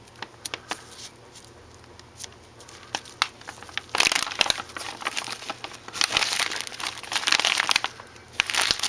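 A small paper seed packet is handled and crinkled close by, with scattered light rustles early on that build into denser, louder crackling bursts toward the end.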